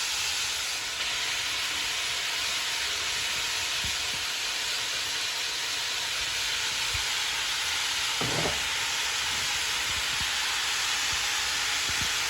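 Finely chopped onions sizzling in a hot pan with no oil, giving a steady, even hiss and crackle throughout. A brief clatter of stirring is heard partway through, and no voices are present.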